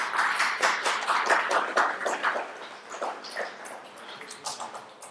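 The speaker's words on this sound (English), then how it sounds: "Give him a round of applause." Audience at an interactive career talk clapping in a round of applause, loud at first then tapering off, with scattered distinct claps near the end.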